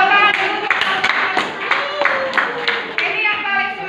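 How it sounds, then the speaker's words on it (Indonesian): Students in a junior high science classroom clap together, a burst of scattered, overlapping hand claps with a few sharper accents, mixed with children's chatter and voices throughout. "Oke, tepuk tangan dulu."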